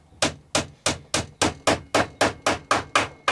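Small nails hammered into wooden slats while a salvaged-carton spark screen is built: eleven sharp, evenly spaced hammer strikes, close and loud, in a steady rhythm with no talking.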